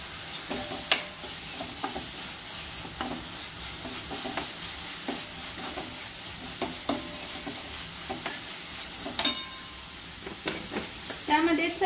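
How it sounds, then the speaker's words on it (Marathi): Masala paste with Kolhapuri chili powder roasts in a pan for a prawn curry, giving a steady low sizzle broken by frequent scraping stirs and clinks of a spoon throughout. "हे वाटण सगळं आपण भाजून घ्यायचं आहे। त्यामध्ये कोल्हापुरी 2 चमचे तिखट टाकत आहे मी।"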